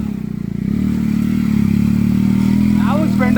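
A Hero Honda motorcycle climbs the Gavi Betta offroad trail near Sakleshpur, its engine a steady, close, droning hum that holds throughout, with people talking over it.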